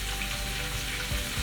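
Onions frying in a pan for a Sri Lankan fish chukka curry, a steady close sizzle and crackle with no talking.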